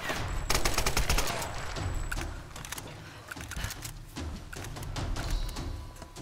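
Heavy gunfire in the video game Tomb Raider, including shotgun blasts, fires in dense bursts with repeated sharp reports and thuds, loud and close throughout, with no talking.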